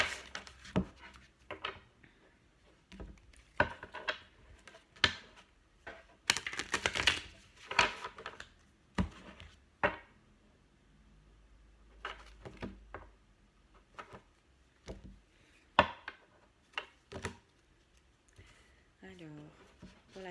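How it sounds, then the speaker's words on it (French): Large tarot deck shuffled in two piles, a run of soft riffling card flicks and taps close by, in uneven bursts with short pauses throughout. "je fais 2 tables pour le mélanger parce que je n'ai pas des mains assez puissantes pour les mélanger en une seule fois"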